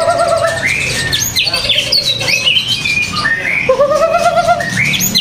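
Caged magpie robins (murai) at a bird shop kiosk sing loudly and close, repeated whistling phrases and chirps overlapping from several birds, over low background chatter.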